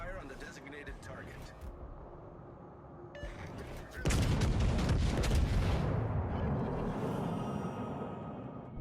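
Naval guns fire in World of Warships: Legends aboard the battleship USS Oklahoma (BB-37), a heavy broadband boom at about four seconds that rolls on for several seconds over game sounds and voice chatter.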